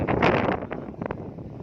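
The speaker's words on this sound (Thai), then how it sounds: "ลมแรง" Strong wind buffets the microphone at an outdoor buffalo market in Ubon Ratchathani, Thailand, a loud rough gust at the start easing into lighter rumbling bursts, with no talk.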